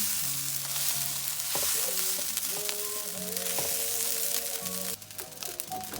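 Sinangag, Filipino garlic fried rice, sizzles steadily in a pan while being stirred, with scraping spatula strokes over a constant loud frying hiss in a countryside kitchen, background tones faint underneath.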